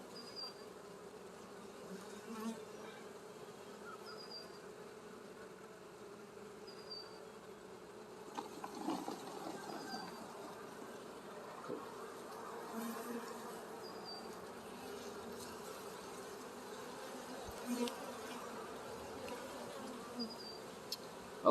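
Agitated honey bees buzzing steadily around hive frames during beekeeping, a soft continuous hum with occasional louder passes and light handling noises.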